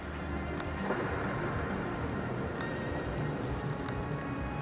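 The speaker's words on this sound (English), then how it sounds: "The storm must be causing interference." Steady heavy rain pours through a stormy video game scene, with low rumbling thunder underneath and a few sharp high ticks cutting through, dense and continuous with no talking.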